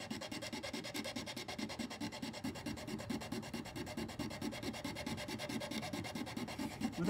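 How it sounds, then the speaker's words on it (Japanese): Steady rhythmic rasping of a hand rasp filing wood, roughening a joint surface before gluing it with wood glue; repeated even strokes, close and continuous with no talking. "ちょっとこれでヤスリで削っておこうと思います。"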